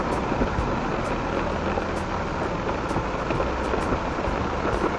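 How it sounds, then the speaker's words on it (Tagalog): Heavy rain drums steadily on a car during a rainy drive through city traffic, a dense continuous wash with a low engine and road rumble beneath, with no voices. "Palakas na ng palakas yung ulan eh."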